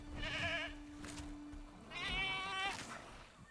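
A goat in Jurassic World Evolution 3 bleats twice, a short wavering cry followed after a pause by a longer, louder quavering bleat, heard over low background noise.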